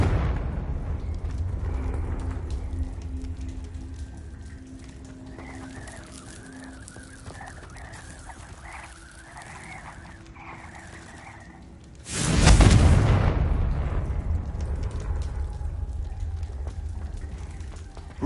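A Confringo fire-blast spell in Hogwarts Legacy bursts into one loud, sudden explosion with a roaring rumble that trails off. Quieter ambient game sounds come before it, including bird-like warbling calls.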